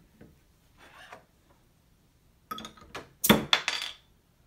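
Kolashampan soda can being popped open: a few faint rubs and taps, then a sharp metallic crack and hiss-like burst near the end, followed by brief clinks, close up with no talking.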